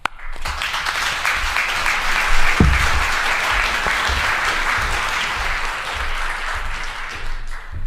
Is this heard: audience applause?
yes